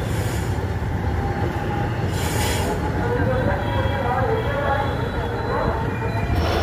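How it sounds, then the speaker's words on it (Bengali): A train at Jhargram railway station rumbles steadily and fairly close, with wagon noise and faint station ambience running throughout. "ঝাড়গ্রাম ঘুরে চলে এসেছি এখন আমি ঝাড়গ্রাম স্টেশনে।"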